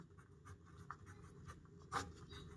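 Pen scratches across notebook paper in short, uneven strokes, a soft rhythmic scribbling close to the mic in a quiet room, with one firmer stroke near the end.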